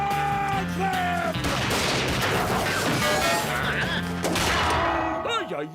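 Cartoon gunfire from a Lucky Luke animation, a dense, noisy volley of shots that swells through the middle of the clip, mixed with background music and voices.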